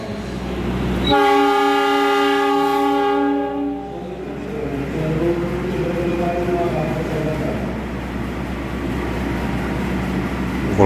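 The Gajayana passenger train sounds a loud horn blast lasting a couple of seconds, then rolls on with a steady rumbling clatter as it pulls away at night.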